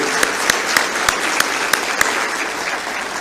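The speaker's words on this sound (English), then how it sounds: "Can we have can you applause for them?" Audience applause fills a climate governance conference hall, dense continuous clapping from a large crowd with a few sharper claps standing out.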